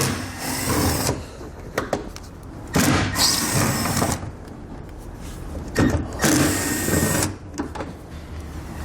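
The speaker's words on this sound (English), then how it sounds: "So I'm gonna take a T15 Torx bit. I'm gonna remove these 3 Torx screws here." A T15 Torx bit removes Torx screws while installing a B and W Companion 5th wheel underbed kit in a 2021 GMC Sierra, heard as several close whirring bursts separated by short pauses, with no speech.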